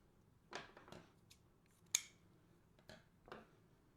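Scissors snip through wreath pieces to trim them shorter, a handful of quiet, crisp separate cuts spaced irregularly in a silent room, one sharper snap standing out among them.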